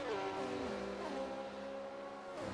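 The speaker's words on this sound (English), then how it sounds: "As they roar on by." Several open-wheel racing cars in a Formula-style sim race scream past in a tight train, engines howling with shifting, falling pitch as they pass, loud and continuous with no talk.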